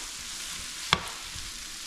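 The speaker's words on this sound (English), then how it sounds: "So we're just gonna allow the vegetable to saute a little bit" Vegetables sauté in a pan for brown stew fish, a steady mid-level sizzle interrupted once by a sharp metallic clink of a utensil against the pan, then soft stirring scrapes beneath the hiss.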